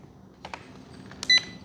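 A few brief electronic beeps in two small clusters from an FMS Magnum 1:18 RC crawler, followed by a short steady tone, close by against a quiet background.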